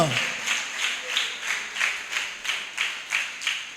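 A church congregation claps in unison in praise of God, a steady, even rhythm of about three claps every two seconds, moderately loud and slightly distant, with no speech over it.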